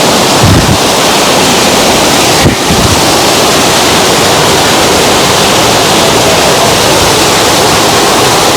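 A nearby waterfall roars in a loud, unbroken wash of noise that fills the whole stretch evenly, with a couple of brief bumps and wind buffeting on the microphone.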